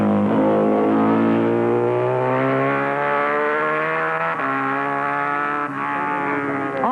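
A Czechoslovakian Jawa twin racing motorcycle runs loud and near, a continuous harmonic engine drone that rises in pitch and holds high at race pace, with slight shifts as it goes. No voices are heard.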